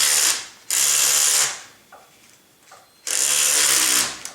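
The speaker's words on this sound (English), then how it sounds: "And we'll remove these rear screws." A small electric screwdriver backs out the rear screws of a Trex 700E RC helicopter, whirring in two long, steady bursts with a quiet pause and faint handling clicks between them.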